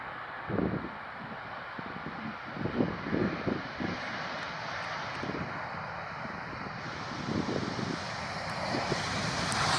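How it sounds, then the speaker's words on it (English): An Airbus A350 lands in Amsterdam, a steady broad roar of engines and wind rushing past throughout, with some low rumbling thumps, fairly loud and without voices. "This Airbus A350 pilot making a super smooth landing in Amsterdam"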